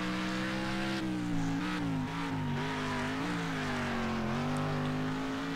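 Race car engine in Next Car Game, drifting around corners during a demolition derby race: a loud, steady high engine whine, its pitch wavering and dipping as the car slides through turns, continuous throughout with no talk.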